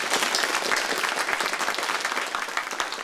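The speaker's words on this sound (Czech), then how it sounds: "potvrdíme to potleskem" Audience at a televised Czech brass-band music program claps warmly in congratulation, a dense continuous patter of many hands at moderate level with no talking.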